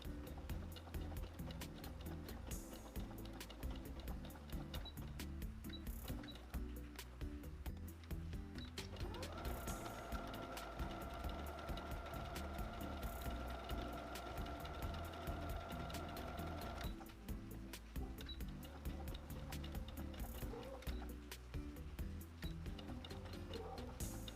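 A sewing machine stitching felt appliqué runs continuously with a rapid mechanical whirr and needle chatter, its tone briefly rising to a higher hum in the middle before settling back.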